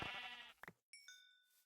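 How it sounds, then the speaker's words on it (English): Sheep in the Minecraft GTNH modpack bleat, one long nasal bleat followed by two short game hit or pop sounds, clear and close with no talk. "Okay, time to kill some sheep."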